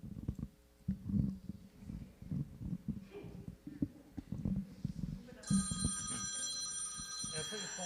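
Mobile phone ringtone going off during a board meeting, a steady electronic ringing tone in the second half that starts after quiet speech and murmuring, moderately faint in the room.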